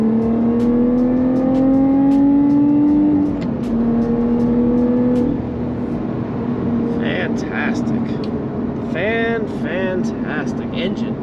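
A 2021 Lotus Evora GT sports car's engine drones loud and close from inside the cabin, its pitch climbing steadily through a gear, dipping at a shift, then carrying on under road noise with brief chirping sounds near the end.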